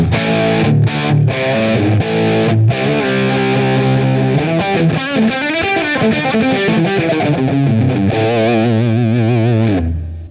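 An electric guitar played through a Line 6 Helix amp with the boost engaged gives a loud, compressed, distorted tone, with sustained chords and melodic runs ringing out for about ten seconds before stopping.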